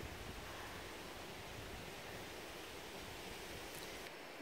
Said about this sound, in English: I hear running water to go check out.